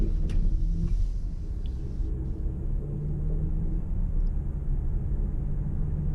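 Cabin sound of a 2020 Ford Escape Titanium SUV on the move, a steady low road and engine rumble with faint higher hiss, continuous and without speech.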